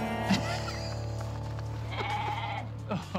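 Goats, some of them transgenic animals bred to produce spider silk protein, bleat in a few brief calls over a steady background hum, with voices faintly present.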